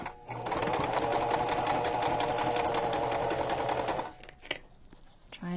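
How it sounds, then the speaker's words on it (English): A sewing machine runs a basic straight stitch in one continuous, steady burst of about four seconds, with fabric being folded for a junk journal cover. The motor stops abruptly, leaving faint handling noises. "We're just doing a basic straight stitch."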